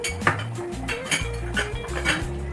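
Metal pot lid and cookware clinking and scraping while chickpea curry cooks on a stove, several close, bright clanks and rattles in quick succession with no talking.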